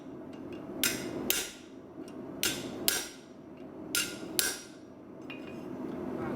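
A hammer strikes a chisel to split hot metal plate in a blacksmith's forge, ringing in sharp pairs of blows separated by short pauses, loud and close with no talking.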